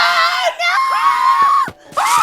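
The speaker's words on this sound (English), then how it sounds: "The boys let out a scream." Several boys scream in terror as an audio drama effect, high shrill voices overlapping in loud sustained yells that break off briefly and then resume.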